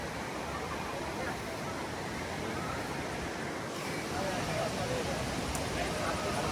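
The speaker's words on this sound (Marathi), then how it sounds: "तर बाजूने तो धबधबा वाहतो आहे." Continuous rushing roar of a waterfall flowing beside stone steps at the Marleshwar temple, close and steady, with faint voices mixed in.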